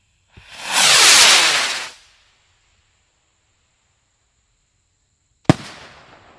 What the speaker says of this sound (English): we got a big boy rocket going in here